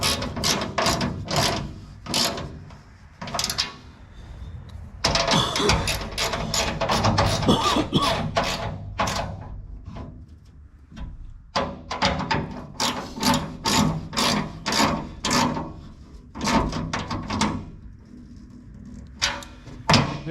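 Ratchet wrench clicking in rapid bursts while tightening hardware on the straw chopper of a 1974 John Deere 6600 combine, close and loud, with short pauses between runs of clicks and no talking.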